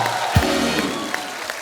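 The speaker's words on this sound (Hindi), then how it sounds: "एक बार जोरदार तालियां हो जाए आपके फैंस यहाँ पे" A studio audience on a television comedy talk show breaks into loud applause and cheering for a visiting singer, a broad wash of clapping with a thump near the start.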